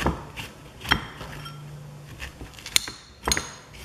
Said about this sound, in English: I'm just gonna take a spoon and get the seeds out into this bowl